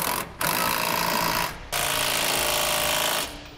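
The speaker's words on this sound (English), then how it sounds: "using a 3/4 inch socket and wrench, we'll tighten up the bolts that secure our side plate to our cross members" Bolts securing a gooseneck trailer hitch side plate to cross members on a 2008 Ford F-450 are driven with a 3/4 inch socket, a loud continuous rattling tool whir in three bursts separated by short pauses.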